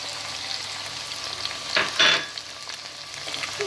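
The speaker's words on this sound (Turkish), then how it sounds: "Domatesim, etim, soğanım güzelce kavruldu." Tomato, meat and onion sautéing together in a pan for an okra stew, a steady sizzle with a couple of louder stirring bursts partway through, no talking.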